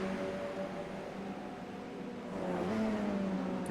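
A Radical SR race car engine on the Okayama circuit, its tonal drone holding steady then swelling in pitch and loudness as it accelerates, moderately distant.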